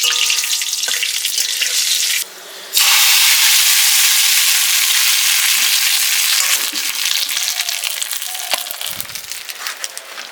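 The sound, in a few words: cumin, dried chili and bay leaf sizzling in oil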